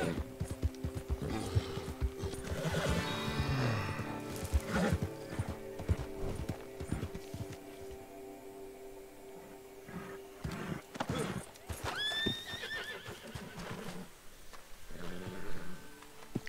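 Horse hooves from a video game horse clip-clop steadily with a few whinnies and snorts, close by, mixed with game-like ambient sounds and occasional chatter.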